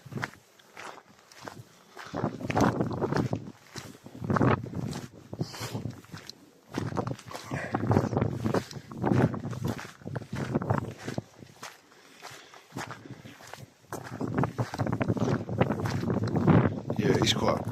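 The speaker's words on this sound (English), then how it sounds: "Yeah, it's quite windy up here actually." Strong gusty wind buffets the microphone on Wallasey Island, roaring in waves that rise and fall throughout, with footsteps and someone talking under the rumble.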